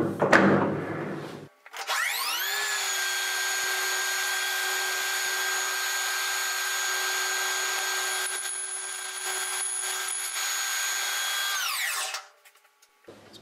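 A metal lathe takes a roughing cut of about twenty thou, spinning up to a steady, loud whining tone that holds for roughly ten seconds before winding down and stopping.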